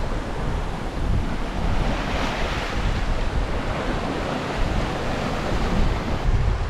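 Sailboat moving through swirly tide rips between Tobermory and Gigha, with loud continuous wash of waves and surf mixed with buffeting wind on the microphone, no voices.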